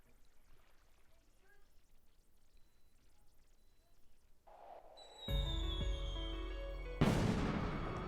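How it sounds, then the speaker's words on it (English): Fireworks bursting in the video game Trails the 3rd, rising whistles followed by two loud booming explosions with crackling tails, after a quiet stretch of soft ambient tones. "Yep, fireworks. Cool. I like fireworks. Wow, fireworks! They're so pretty!"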